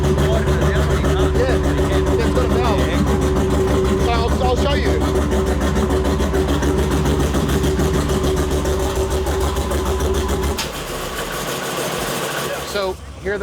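A car engine idles with its exhaust valve closed, routed through the muffler, giving a steady, moderately loud hum before dropping away near the end, with people talking over it.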